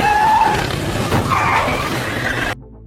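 A car in a film scene running over John's hand: a loud screech of tyres with engine noise, rough and grinding for about two and a half seconds before cutting off sharply into quiet.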